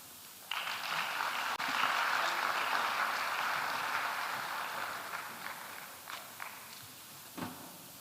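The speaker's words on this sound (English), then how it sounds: "A round of applause" Audience applause at a digital and innovation conference in Ghana, a broad wash of clapping that starts abruptly, holds steady and then thins out into a few scattered claps, fairly faint and distant.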